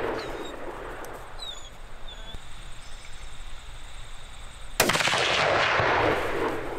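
A loud rifle shot cracks out at a shooting range on a hunting property, its boom rolling and echoing for a couple of seconds over an outdoor backdrop with faint birdsong.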